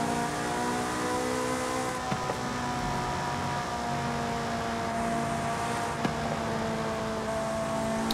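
Ferrari F430 Scuderia in Forza Horizon 5 drones along at steady engine revs, a continuous harmonic hum with faint shifts and small clicks, no talking.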